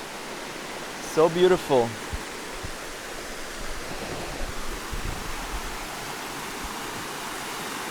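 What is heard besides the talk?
river flowing near a Malaysian jungle forest path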